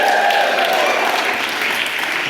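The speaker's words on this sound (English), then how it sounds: "If you're good-looking, give me a cheer." TEDx audience at the University of Leeds claps and cheers, a dense, loud wash of applause with a few voices mixed in, holding steady before tapering off slightly.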